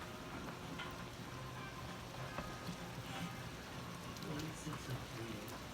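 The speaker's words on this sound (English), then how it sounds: "Lots of rain." Heavy Georgia rain falling outside a trailer, a faint, steady hiss of drops pattering on surfaces with a few louder taps, continuous throughout.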